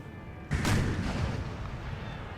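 A single cannon shot in Napoleon Total War artillery fighting, a sudden heavy boom followed by a long rumbling decay, fairly loud and standing alone.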